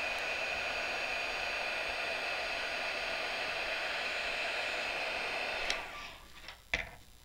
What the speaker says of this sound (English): take your heat gun and we're going to melt that powder